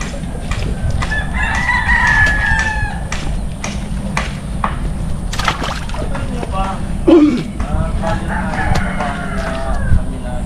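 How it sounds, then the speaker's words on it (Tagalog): A rooster crows in a rural outdoor setting, a drawn-out call heard a little way off, with scattered clucks and knocks and people talking nearby throughout. "Manok."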